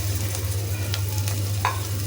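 Turmeric, chili and coriander spice paste frying in a pan beside ginger-garlic paste for a kajli fish chorchori, giving a steady, close sizzle with a constant low hum underneath and no talking.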